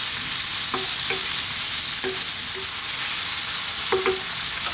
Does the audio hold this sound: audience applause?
no